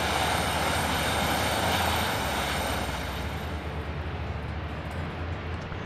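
Steady engine drone of a VTOL aircraft in the video game Frontier Pilot Simulator, a loud continuous hum that holds throughout and thins slightly near the end.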